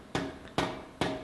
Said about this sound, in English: I'm doing this under the power hammer with the swage